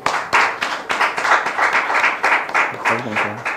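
A crowd applauds in loud, rhythmic bursts of clapping, with a voice briefly heard near the end.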